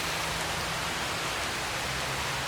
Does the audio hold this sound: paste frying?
no